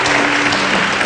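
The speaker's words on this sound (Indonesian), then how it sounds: "Kita berikan tepuk tangan" A studio audience at an Indonesian television program claps together, a brief, loud, continuous burst of applause with no pauses.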